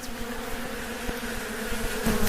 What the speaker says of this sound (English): The insects are bees.